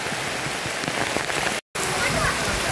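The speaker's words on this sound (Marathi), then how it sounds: "खूप पाऊस आलाय." Dense, loud rain hammers down on a village rice field at harvest time, a close and constant roar with one very short dropout partway through.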